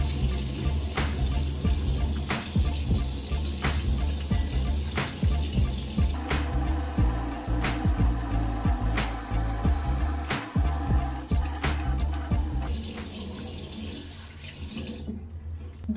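Tap water runs steadily into a sink during a morning face wash with cleanser, a continuous close splashing stream with small bumps and drips, fairly loud and alone with no talking.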